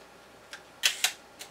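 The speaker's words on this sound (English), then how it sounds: "to make the shutter work, you have to turn it back the other way a half a turn." A Yashica Mat twin-lens camera being wound and its shutter clicked: a few faint, sharp mechanical clicks, two louder snaps close together, then a softer click, in near silence.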